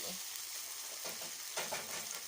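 Canned fish stir-fried with kohlrabi, sugar and fresh sliced chili in a pan, a steady close sizzle with brief scraping stir strokes throughout.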